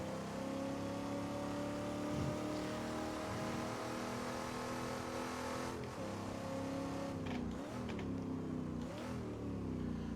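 HSV GTS-R engine in the Assetto Corsa racing game, revving hard and steadily with rising and falling pitch across gear changes, loud and continuous with no talking.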